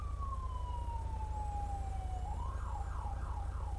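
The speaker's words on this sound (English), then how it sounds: "Fucking rolling their lights and sirens," Emergency vehicle siren in a police role-play video game: a steady wailing tone sliding slowly downward, then switching to a faster rising-and-falling yelp, over a constant low engine-like rumble, with no talking.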